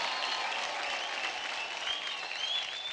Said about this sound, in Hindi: सुपर परफॉर्मेंस, जोरदार तालियां हो जाए फिर से बिनी के लिए